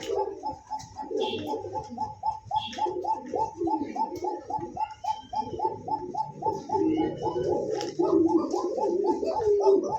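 A pair of pigeons coo in a steady, repeated rhythm of soft, throaty calls close to the microphone, with someone talking intermittently underneath.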